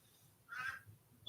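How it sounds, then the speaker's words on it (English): A single quack from a duck, brief and fairly faint, set against a quiet room with a low murmur behind it. "Even Indiana quacked at that one."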